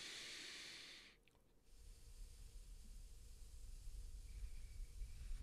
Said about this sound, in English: Purse your lips like you're breathing through a straw.